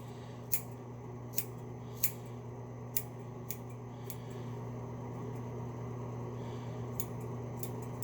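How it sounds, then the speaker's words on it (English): Scissors snipping through a person's own hair, a few sharp crisp cuts spaced about a second apart and then a couple more near the end, all over a steady low hum in a quiet room. "use a not too sharp pair of scissors"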